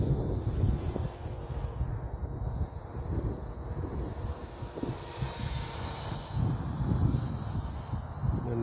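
An RC helicopter, a Goosky RS4 or Align T-Rex 450, flies outdoors in wind with a faint, distant whining rotor and motor hum under rushing wind noise, rising and fading as it passes.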